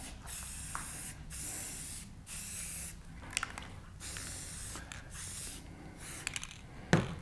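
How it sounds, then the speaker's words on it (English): Charcoal gray paint sprayed in stripes over an epoxy resin soapstone replica: a series of short hissing aerosol bursts, about six, close and fairly soft, separated by brief pauses, ending with a small knock. "I'm gonna spray that on top as well"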